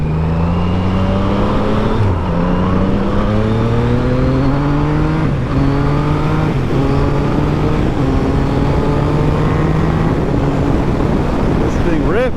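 A motorcycle accelerates hard through several gear changes while riding in traffic, its engine note repeatedly climbing in pitch, then dropping at each shift, loud and close throughout with steady wind rush.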